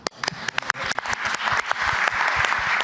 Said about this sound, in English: Because then I will applaud you.